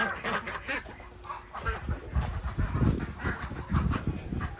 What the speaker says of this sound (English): Chickens, you do not belong in here.